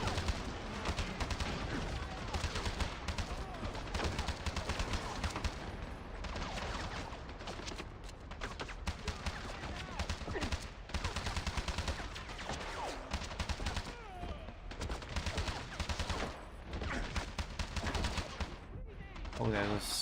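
Rapid bursts of gunfire from the video game 007 Bloodstone, including sniper shots, crackle and thud in dense clusters over about twenty seconds, with a player's voice talking over the game action.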